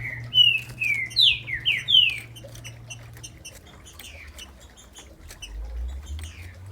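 A green-winged saltator sings a run of bright, sliding whistled phrases up close, changing its song partway through, with faint chirps from other caged birds and a low background hum.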